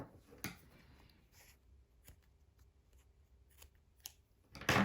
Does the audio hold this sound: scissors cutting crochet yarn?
yes